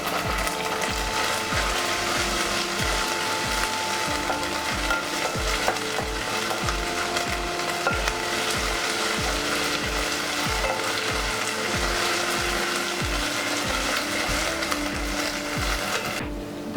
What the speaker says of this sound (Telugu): అల్లం వెల్లుల్లి పేస్ట్ పచ్చివాసన పోయే వరకు లైట్గా ఫ్రై చేసుకుందాం.